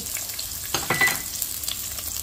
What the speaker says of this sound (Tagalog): lagay natin itong ating sibuyas. Gisa natin siya guys